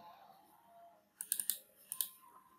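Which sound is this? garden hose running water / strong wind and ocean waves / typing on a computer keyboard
typing on a computer keyboard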